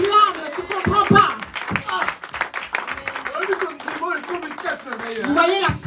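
A Sunday church congregation clapping and calling out in acclaim, bursts of claps mixed with voices and cheers, lively and close, with speech throughout.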